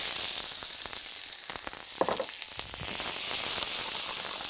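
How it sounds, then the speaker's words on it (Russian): Sliced peppers frying in olive oil in a skillet for ratatouille, a steady broadband sizzle and crackle close up, continuous throughout with a brief clatter of stirring near the middle. "Опять же, перец не агрессивно жарю, а очень гуманно."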